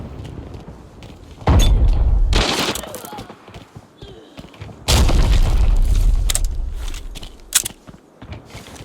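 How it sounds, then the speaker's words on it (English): Grenades explode in the tactical shooter Arena Breakout, two loud, heavy booms a few seconds apart, each with a long rumbling decay, over quieter in-game ambience between them. "my teammate's grenades keep interrupting that."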